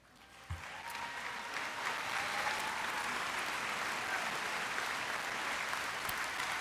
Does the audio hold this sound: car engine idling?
no